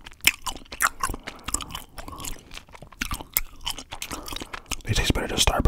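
Hi-Chew candy, Tropical Mix and Fantasy Mix, chewed close to the mic: continuous wet, sticky mastication with irregular crunchy bites and smacks across the whole stretch, growing louder near the end.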